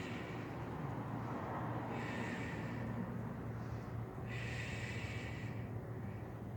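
Loud, steady breaths during a yoga flow, held through a prone pose after plank, with two long airy exhales around the second and fifth seconds over a constant low background hum.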